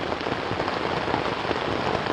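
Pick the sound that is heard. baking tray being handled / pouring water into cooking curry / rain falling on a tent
rain falling on a tent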